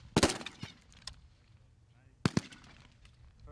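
Gunfire at an army shooting range target: a sharp burst of several rapid shots opens, then a quieter pause before a second short pair of cracks, fairly near over low background noise.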